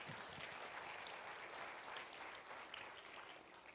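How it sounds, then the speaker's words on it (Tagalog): A church congregation claps for the Lord, a steady, moderately distant wash of many hands clapping that holds evenly for a few seconds before easing slightly at the end. "Isang malakas na palakpak para kay Lord."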